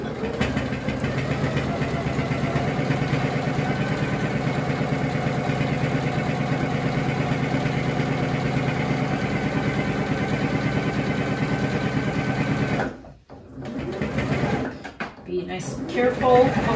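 Sewing machine stitching through several layers of a cloth face mask at a quarter-inch seam, a steady rapid mechanical whirr for about twelve seconds before it stops, followed by a few soft handling noises.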